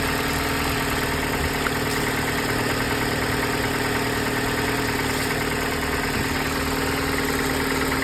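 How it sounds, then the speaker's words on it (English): A car's 4-cylinder engine idles at an auction, with upper engine noise present, heard as a steady, loud mechanical drone and hum that holds constant throughout with no speech. "you hear upper engine noise on it"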